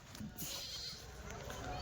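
Goats at a livestock market bleat briefly amid crowd noise, with people talking nearby over a busy outdoor background.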